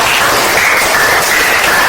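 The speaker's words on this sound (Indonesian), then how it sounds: "Tepuk tangan." Steady, dense applause from a crowd, clapping continuously at an even level for a couple of seconds with no pauses.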